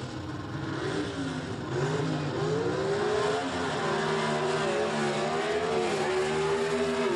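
Drag racing cars, including a 67 Camaro with a 272 cubic inch small block, launch at 10,000 RPM at the 1984 Pomona World Finals: loud engines roar and rise in pitch as they rev, steady and sustained with no talking.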